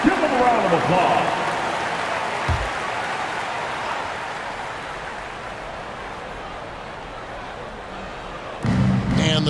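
Arena crowd applause in an NBA 2K23 basketball game, a broad steady wash of clapping and crowd noise that fades slightly, with a commentator talking over it and a brief thud near the start.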